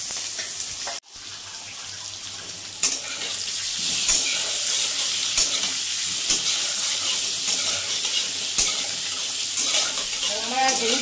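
Small potatoes with salt and turmeric frying in a pan for a no-onion, no-garlic aloo dum: a loud, steady hissing sizzle that holds throughout, with a few clinks and a sharp break near the start.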